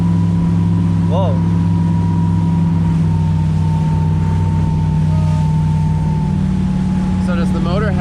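A boat engine drones steadily and loudly throughout, with a low constant hum and faint bits of wind or water noise on top.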